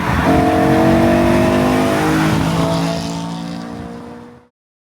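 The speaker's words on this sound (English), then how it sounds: "today we are behind the wheel of an E92 M3" A BMW E92 M3 engine roars loudly and close, holding a strong, tonal rev for several seconds before fading out abruptly; no speech.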